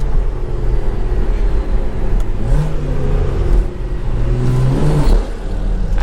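A BMW 535 with an N55 engine revs up nearby on a college campus, its engine rising and falling in pitch over a couple of pulls amid loud, continuous outdoor road noise.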